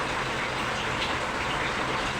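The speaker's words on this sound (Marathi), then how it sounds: "पावसाच्या आवाजा पावसामुळे आवाज थोडा वरती खाली होत आहे" Rain falling near a home kitchen: a loud, steady broadband hiss of rainfall that stays even throughout, with no voices.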